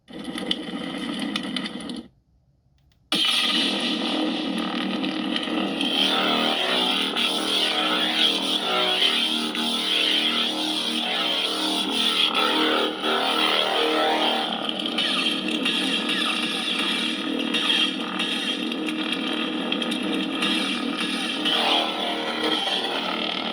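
Hanling and LGT FrankenProffies lightsabers played through a 27 mm speaker, a loud continuous buzzing hum with a brief silent gap early on, then a steady droning tone with slight swells.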